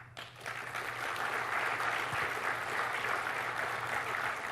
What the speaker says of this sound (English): I know you're just clapping now because I'm trying to get you to